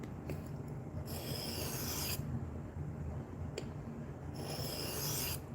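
Knife blade sharpened on a 400 grit stone, steady rasping strokes close up in an even back-and-forth rhythm with brighter scraping bursts at each stroke.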